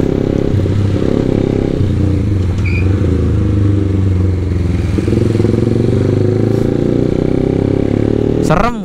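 Motorcycle ridden on a road with a GoPro mounted, its engine droning steadily and close for the whole stretch, with a quick rising rev right at the end.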